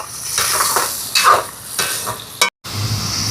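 Prawns sauté lightly in hot oil in a pan for prawn vadai, with a steady sizzle under scraping and stirring clinks of a utensil against the pan. A sharp clack and a brief dropout come near the end.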